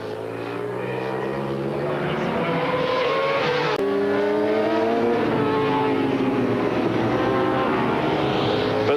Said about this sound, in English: But this man, Steve Plater, still screwing the throttle to the stop as he tries to chase down a second place Yamaha Motor France machine.